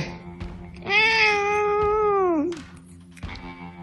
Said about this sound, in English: Meows get more frantic the more annoyed he is.